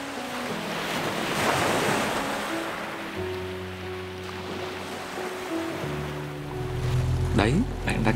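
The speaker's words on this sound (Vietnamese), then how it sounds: "Bạn có nghe tiếng sóng không? Hãy tận hưởng một chút thanh âm tuyệt vời của đại dương nhé." Ocean waves break on the shore at Cù Lao Câu island, a continuous rushing wash of surf with gusty wind buffeting the microphone and a low droning hum rising near the end.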